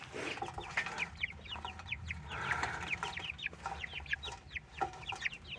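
Backyard hens cluck and chatter in a busy, overlapping series of short calls, fairly close and continuous, with no talking.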